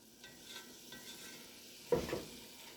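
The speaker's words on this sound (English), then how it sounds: "I have my fire up on medium heat, scraping the bottom." A spoon stirs and scrapes the bottom of a pot of sausage, onions and peppers over medium heat, soft sizzling throughout with one louder scraping clatter near the end, no voices.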